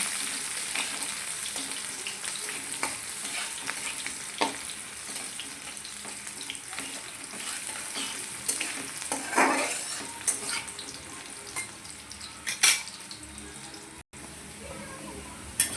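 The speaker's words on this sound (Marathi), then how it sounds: "आता कांदा टाकू. कांद्याला असं हलवून घेऊ." Onion stirred in a pan with roasted cumin and curry leaves for jhunka, an ongoing sizzle with scraping strokes and occasional clinks, plus a brief splash of running water partway through.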